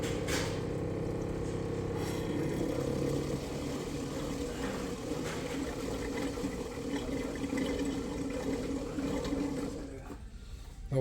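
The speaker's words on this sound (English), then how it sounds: "And I'm gonna start filling the bottles." Transmission fluid for a Mercedes 7G-Tronic gearbox pouring steadily from a pump into bottles, a continuous liquid gush with a low mechanical hum that holds for about ten seconds, then eases off.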